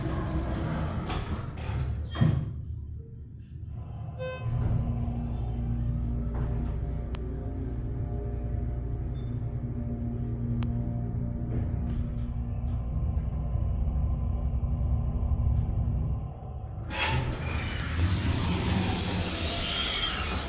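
A Schindler HT hydraulic elevator motor at an H&M store in Bergen Town Center, Paramus, NJ, runs as a steady low hum and rumble for about twelve seconds, starting and stopping between quieter stretches of clunks and room noise.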